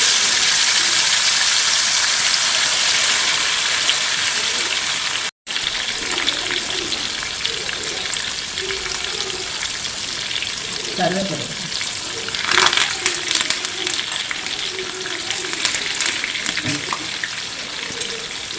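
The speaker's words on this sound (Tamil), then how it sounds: "எண்ணெய் காஞ்சிடுச்சு, மீனை போட்டுக்கலாம்." Fish frying in hot oil for fish curry makes a broad, steady hiss with one brief dropout partway through, and faint clinks and muffled voices come through under the sizzle.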